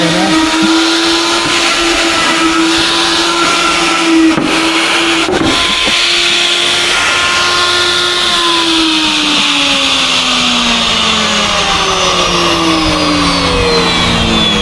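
A wood router with its bit fitted and the router fixed to a table switches on and runs with a loud, steady high-pitched whine. A couple of brief knocks come early, then the pitch gradually drifts lower.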